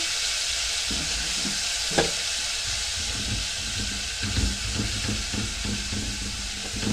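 Garlic sizzles steadily in a spoonful of butter and a little oil, a dense bright frying hiss with soft stirring clicks and small pops, close and continuous for the whole stretch.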